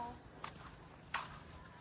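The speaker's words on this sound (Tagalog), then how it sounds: "Pero yung kuliglig pwede." Crickets chirp in lush nature near a spring in Umiray, Dingalan, a steady high continuous trill at low level, with a couple of soft footstep-like rustles passing underneath.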